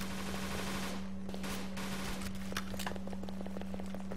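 Machine gun fire in an online clan-war shooter match, repeated bursts of rapid shots over a constant steady tone and background game noise.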